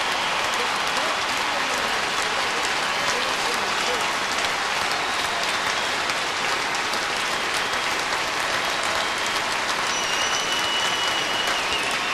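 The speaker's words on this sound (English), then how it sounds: "the Braves applauding Craig Biggio" Sustained ballpark applause for Craig Biggio at Minute Maid Park, a dense wash of clapping from a large crowd that holds steady throughout, with a commentator's voice faintly over it.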